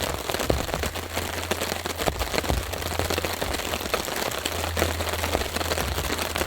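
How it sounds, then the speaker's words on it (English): Steady rain patters on a tarp at a wild camp during a heavy storm, a dense, continuous hiss of drops close overhead with a low rumble beneath, no voices. "But just the sound of the rain."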